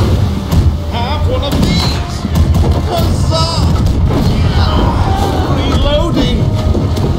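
Ship cannons boom over and over during a naval battle in the video game Blackwake, heavy dense blasts that mix with shouting voices and clatter throughout.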